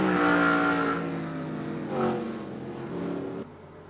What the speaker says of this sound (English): The car seems to be under power there.